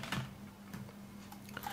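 Keys tapped on a computer keyboard while working in Microsoft Word, a handful of faint, irregular clicks over a steady low electrical hum, with no one talking.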